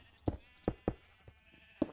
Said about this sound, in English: Oh yeah, you can hear the sheep.